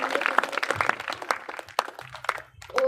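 Applause from a congregation at a Christian ministry testimony gathering, dense, scattered clapping filling the whole stretch at close range, with no talk over it.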